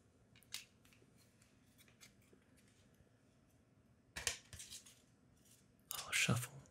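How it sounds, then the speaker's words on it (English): A deck of game cards is shuffled at a quiet table: soft scattered ticks, then two short, papery riffling bursts near the end, close and gentle. "I'll shuffle."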